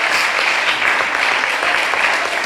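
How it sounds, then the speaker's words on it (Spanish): A church congregation claps in sustained, dense applause that fills the hall evenly throughout, loud and close, with no distinct voices rising above it. "Si usted lo cree, dé un aplauso al Señor."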